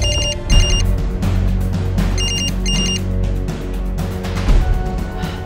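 A telephone rings with repeated electronic trills in pairs, loud and close, over a dense background of music and ambient noise.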